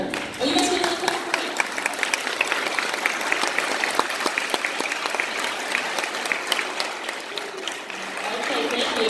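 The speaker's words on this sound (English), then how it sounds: "Oh, you guys can clap for me." An audience applauds at a school summer concert, a dense, sustained wash of many hands clapping that carries steadily from start to finish, with a few voices mixed in.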